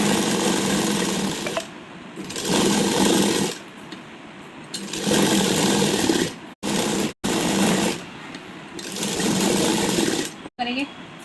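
Sewing machine stitching a baby frock, running in four long bursts of steady whirring motor hum with short pauses and clicks between runs, close and fairly loud.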